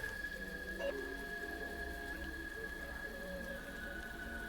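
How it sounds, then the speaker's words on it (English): Rain falling in The Hundred Line video game, a soft, steady patter that stays faint and even throughout, with a thin sustained tone underneath. "Oh, hey, Rain!"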